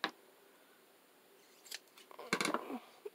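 Scissors trimming a paper embellishment for a junk journal tag banner, a few short snipping and rustling cuts clustered near the end after a quiet stretch, close and fairly soft.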